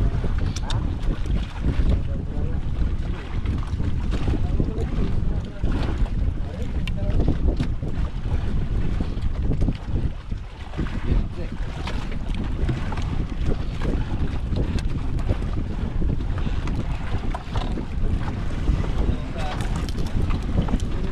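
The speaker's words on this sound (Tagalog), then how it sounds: "Itong hangin na to kung may trapal to," Strong wind roars steadily across a boat out on the water, a dense, unbroken rush that fills the whole stretch, with a person talking over it.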